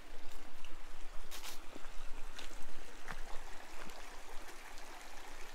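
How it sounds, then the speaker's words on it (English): A small stream meanders along a canyon floor below the New Mexico Catwalk, giving a steady, soft rushing trickle that runs without a break and carries no voices. "You can hear the stream in the background"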